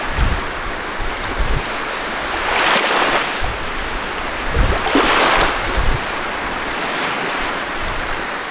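Waves break on a beach in the Quebec wilderness, a steady close wash of surf swelling into louder surges about every two seconds, with wind rumbling over the microphone.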